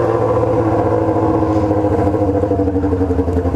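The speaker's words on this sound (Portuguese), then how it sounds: "Agora aparece uma moto" A Yamaha XJ6 motorcycle engine rumbling close by, steady and loud throughout the short stretch.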